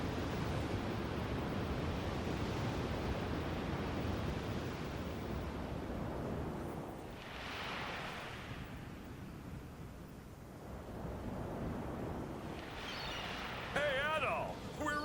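A ship sails over the sea in Dragon Quest V on PS2, heard as a continuous wash of waves and wind that swells and ebbs, with a faint synthetic warble near the end.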